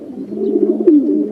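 Pet pigeons or doves coo close by in a single short, soft rolling burst, with no talking.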